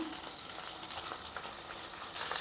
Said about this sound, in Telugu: ఫస్ట్ ఫ్రై చేస్తున్నా, తర్వాత కర్రీ చేస్తా.